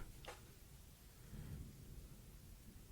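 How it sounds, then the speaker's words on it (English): Faint thunder rumbles low in the distance outdoors, a soft rolling swell under a quiet background with no talking. "I was listening to the thunder in the back."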